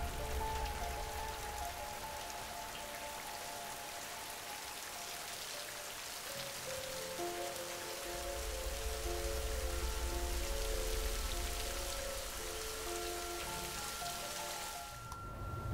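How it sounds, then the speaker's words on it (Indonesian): A waterfall on Mount Salak, a continuous broadband rush of falling water like heavy rain, steady and fairly close, with a deeper surge in the middle and no speech. "Sama anak Terabas si Aceng, kita naik curug ini lawan arus"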